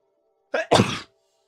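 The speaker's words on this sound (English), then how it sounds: "I gotta sneeze." A single loud sneeze close to the mic: a brief sharp intake followed by a burst, set against quiet with a faint hum.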